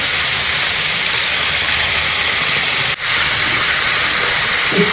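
Chicken frying in hot oil in a pan for an Assamese chicken and banana flower dish: a loud, steady, close sizzling hiss that continues without pause, with one brief dip midway.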